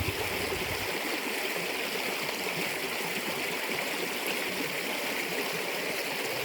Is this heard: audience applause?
no